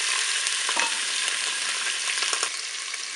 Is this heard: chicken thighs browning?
yes